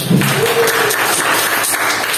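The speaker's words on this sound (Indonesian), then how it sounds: "Tepuk tangan dulu." Classroom of students bursts into dense applause during a Ramadan talk, steady loud clapping throughout with a brief voice near the start.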